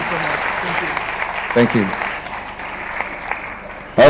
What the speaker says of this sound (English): A round of applause for that excellence.